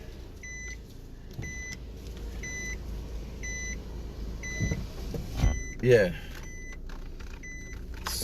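Car door-lock confirmation beeps chirp in a steady repeating pattern, about ten short tones at regular intervals, over low road rumble while a voice speaks briefly.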